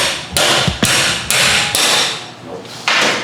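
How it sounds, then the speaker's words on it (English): A hammer pounds a bent metal part on a freshly painted bike, about five loud sharp blows at irregular spacing, each ringing briefly before fading, with no talk over them. "Get a hammer."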